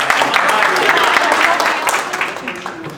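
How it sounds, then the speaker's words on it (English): Applause from an audience at a community council district forum hosted by a homeowners association, a short burst of clapping that stays fairly loud and tapers slightly toward the end, with some talk mixed in. "I'm clapping."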